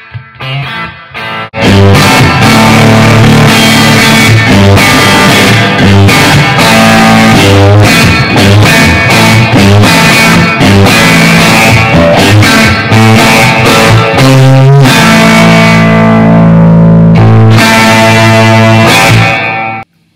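A guitar amplifier pushed with its power tubes at full volume plays heavily distorted chords, loud and continuous with rhythmic strums and brief gaps, ending abruptly.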